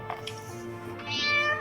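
A cat meows in the space-survival video game Stationeers, with a short mew at the start and a louder, drawn-out meow near the end, over a steady low game hum.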